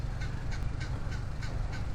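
Repeated honking calls from geese being chased off by clapping, at a steady rhythm, set against a low rumbling background, moderately distant.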